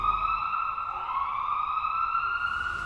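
An ambulance siren wails as one steady, fairly distant tone that bends slightly in pitch, continuous and moderately faint over low background rumble.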